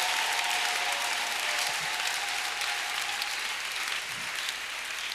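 A church congregation applauds, a dense, steady wash of clapping from many hands that carries on evenly and tapers slightly at the end.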